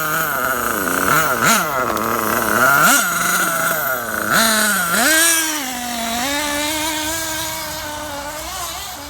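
An RC Losi 8ight RTR buggy's nitro engine runs on old fuel contaminated with water, revving up and down unevenly in a loud, buzzing whine that sputters and wavers before settling into a steadier drone.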